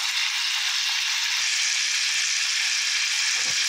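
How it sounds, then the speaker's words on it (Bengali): Small paneer cubes frying in hot oil give off a steady, bright sizzle that holds evenly throughout, with a faint clink near the end. "তেলটা গরম হয়ে গেছে, তাই জন্য তার মধ্যে ছোট্ট ছোট্ট কিউবগুলো একটু একটু দিয়ে দিচ্ছি।"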